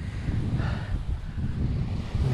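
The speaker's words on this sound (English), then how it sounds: "And this wind's picking up on this side again, which is annoying." Wind gusts buffet the microphone on a deserted island shore, giving a continuous loud low rumble with a faint wash of surf behind it and no voices.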